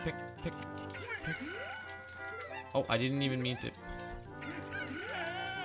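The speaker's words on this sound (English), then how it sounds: "you gotta find the 3 chickens" Chickens cluck and crow amid game music on Lon Lon Ranch in The Legend of Zelda, short bright squawks scattered through the stretch while a player briefly speaks.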